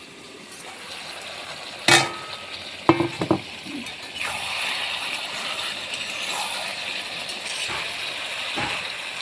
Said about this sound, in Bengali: এখন ভালোভাবে আর একটু কষিয়ে নেব তরকারিটাকে